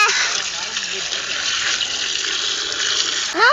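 A continuous rush of water pouring, steady and fairly loud, with brief faint voices at the start and end.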